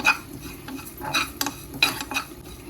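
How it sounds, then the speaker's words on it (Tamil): Fennel seeds and curry leaves roast dry in a pan for a Jaffna-style coconut milk chicken curry, with a faint sizzle under several close scraping strokes of a spoon against the metal, no voices. "பெருஞ்சீரகமும் கருவேப்பிலையும் போட்டு வறுக்கிறேன்"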